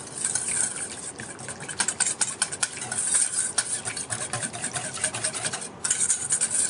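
Powdered sugar icing for cinnamon buns is whisked in a bowl, a close, rhythmic scraping and swishing that pulses steadily with brief pauses, and no one talks.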